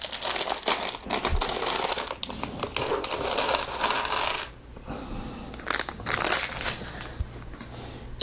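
A full plastic bag of small Lego parts from a Ninja Turtles Turtle Lair set is emptied out, with a dense rattling cascade of clattering pieces and crinkling plastic. A brief pause follows, then more rustling and clinking.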